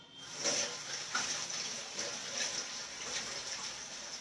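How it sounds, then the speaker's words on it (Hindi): Water runs from a kitchen tap while hands are washed, a steady close hiss with splashy surges as the hands move under the stream. "तो एक बार बस मैं हाथ धो रही हूँ"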